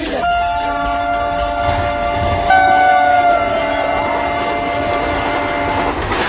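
A man imitates a train horn with his voice, holding long, loud, sustained horn-like tones with an added higher pitched blast partway through, set over a steady rumbling background.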